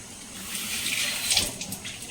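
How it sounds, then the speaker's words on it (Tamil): Water running from a tap into a mixer jar to rinse it, a close steady splashing gush lasting a couple of seconds. "ஸோ இப்போது ஜாரை வாஷ் பண்ண தண்ணி"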